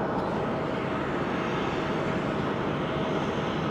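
Airplane at Haneda Airport, a steady loud jet engine roar that holds evenly throughout, with no speech.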